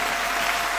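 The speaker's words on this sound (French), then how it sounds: "Applaudis très bien le Seigneur des Seigneurs." A church congregation applauds together in continuous, dense clapping that fills the short moment without any voices over it.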